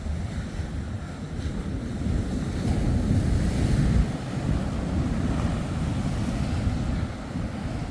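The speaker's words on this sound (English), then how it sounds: "These waves are heavy with mud." Muddy, debris-laden ocean waves break and roll ashore at St Lucia near the Umfolozi river mouth, a continuous wash of surf mixed with wind buffeting the microphone, swelling in the middle, with no voices.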